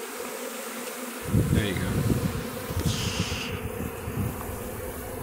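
A swarm of honeybees drones loudly and continuously close by, a dense buzzing hum that swells after a quiet start, with a brief voice speaking at the end.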